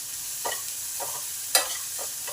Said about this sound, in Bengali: হালকা করে ভাজবো, বেশি কড়া করে ভাজবো না